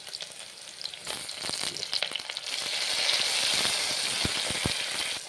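Tomatoes go into a pan of hot oil with onions and fry with a crackling sizzle, first choppy with stirring clatter. The sizzle then swells into a denser, steady hiss broken by a few sharp pops, close by with no voice.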